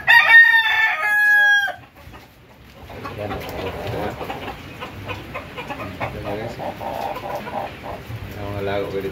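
A pet rooster crows loudly close by in one long, harmonically rich call lasting under two seconds, followed by softer clucking and farmyard clatter.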